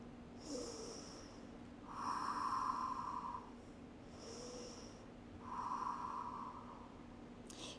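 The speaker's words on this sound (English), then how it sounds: "Taking a couple of breaths here." Slow, deep breaths during a yoga pose, heard close and faint: two long inhale and exhale cycles with an airy, nasal rush and gentle pauses between them.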